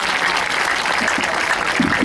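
An audience applauds steadily at an event honoring a film actress, a dense, continuous clapping throughout with a few louder claps standing out.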